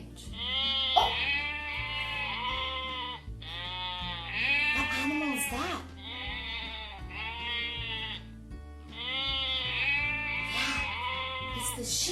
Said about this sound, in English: Yeah, it's the sheep.